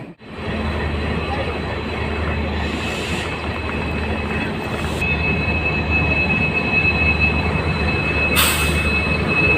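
Ganga Sutlej Express train hauled by a WDP4D diesel locomotive arriving at platform 9, a loud steady rumble of wheels on rails with occasional squeals and hisses, running throughout.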